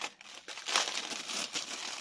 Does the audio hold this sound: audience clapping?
no